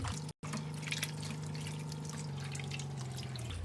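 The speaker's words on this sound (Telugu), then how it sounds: "ముందుగా ఈ 2 కేజీల తలకాయ కాళ్ళని శుభ్రంగా కడిగేద్దామండి" Water runs steadily while a 2 kg goat head and legs are rinsed clean for curry, a continuous close trickle and splash with a low tonal hum beneath it, and no one talking.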